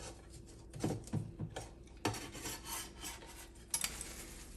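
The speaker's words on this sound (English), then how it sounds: "Pry off the old rubber O-ring and also separate this nylon washer and pull that off as well." A rubber O-ring and nylon washer are pried off a faucet spout with a tool, producing faint, close scraping and rubbing sounds with a few sharp clicks, irregular and quiet.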